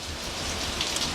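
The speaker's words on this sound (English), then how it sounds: "you can see here that the rains have started" Steady rain from Hurricane Irene falls near Norfolk, a dense continuous hiss of drops on surfaces with no voices.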